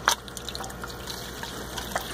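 An aquarium siphon hose draws water off the tank surface, giving a steady close gurgling, slurping flow with small pops and trickles throughout.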